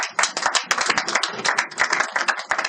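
A church congregation claps steadily in quick rhythmic unison to acclaim the Lord, the close, dense hand claps sustained for a few seconds.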